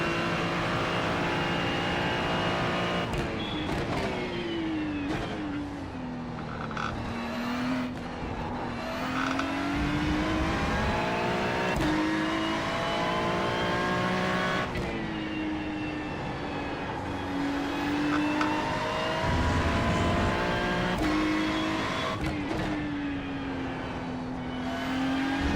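A race car engine drones steadily through a full lap, revving up and down through the gears with repeated shifts and deceleration dips, close and continuous with no talking.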